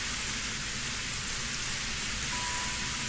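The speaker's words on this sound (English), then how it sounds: "The heavy rain spatters in the forest near the town." Dense, steady hiss of heavy rain pouring down, an even wash of noise with no voices or breaks.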